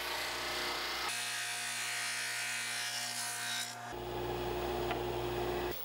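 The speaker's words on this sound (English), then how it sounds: "the fastest way to remove the veneer tape was just to send them through the drum sander" Drum sander removing veneer tape from glued-up wooden panels: a steady electric motor hum with a high abrasive whine that shifts abruptly in pitch and load twice as a panel feeds through, close and continuous.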